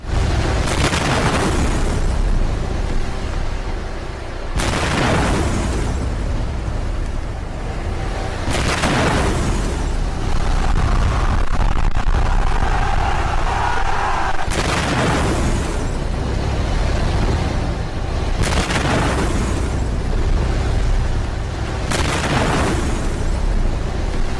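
A run of loud, deep booming explosions in Iran, one after another at intervals of a few seconds, each rolling into a rumbling tail.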